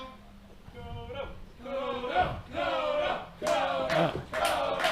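A wrestling crowd at a training match cheers for Koto Hiro, loud rising chants and yells in swelling waves over a few seconds.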